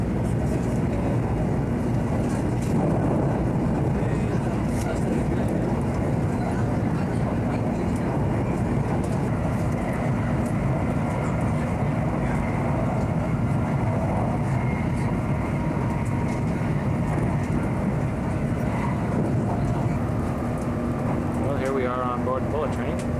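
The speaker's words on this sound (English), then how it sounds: "Bullet train heading for Osaka." A 1988 Shinkansen bullet train heading for Osaka, its steady onboard rumble and rushing hum continuous throughout, with faint voices now and then beneath the ride noise.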